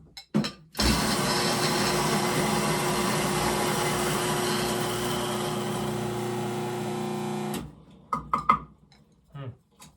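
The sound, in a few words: coffee grinder grinding Honolulu Blend coffee medium fine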